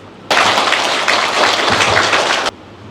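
Audience applause in Bhutan thanking royal officials and civil servants, a dense burst of many hands clapping that starts abruptly, holds steady for about two seconds, then cuts off.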